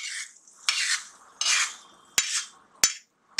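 Spiced masala of poppy seeds and onion for khaskhas kanda sabzi is stirred and roasted in a pan, with rhythmic scraping strokes and sharp spoon clicks against the metal, close up and without speech.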